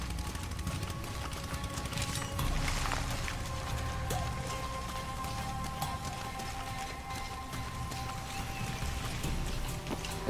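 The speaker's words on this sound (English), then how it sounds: "This rain's not natural." Steady rainfall in the Shadow of the Tomb Raider game world, a constant hiss of drops with faint scattered taps and a low background hum, no talking over it.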